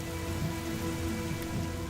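A steady, dense hiss of cold rain pouring down in the Masai Mara Reserve in Africa, loud and unbroken throughout with no voices.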